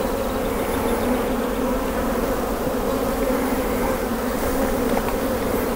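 Honeybees swarm densely over a hive frame, a steady, close, even buzzing that fills the whole stretch without pause, with no talk over it.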